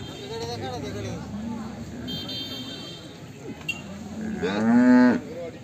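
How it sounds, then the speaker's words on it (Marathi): A cow lows at a cattle market in Baramati, with one long, loud moo rising near the end over steady market background noise and the faint toot of a distant horn. "पहिलारू गाय आहे मित्रांनो."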